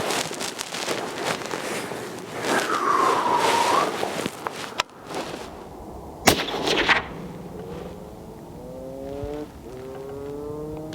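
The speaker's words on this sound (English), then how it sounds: "Sorry guys for the other muzzle blast you're hearing, that the other shots being fired" Rifle shots at an outdoor shooting range, with a Springfield Model 2020 Redline in use: a few sharp muzzle blasts, one loud crack near the middle, set against wind and distant background noise.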